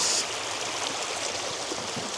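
A river stream flowing where rainbow trout are fished, a steady broad rush of water close by and loud throughout, with no talk.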